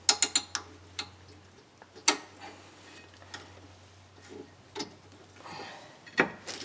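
Brake caliper piston on a 2011 Toyota Sienna rear brake being wound back in with a tool, heard as a series of close, sharp metallic clicks and ratcheting ticks at irregular intervals over a low steady hum.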